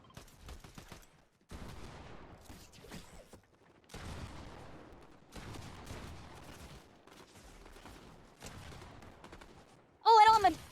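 Video game gunfire rattles in several rapid bursts separated by short gaps, fairly close, with a sharp electronic tone cutting in at the very end.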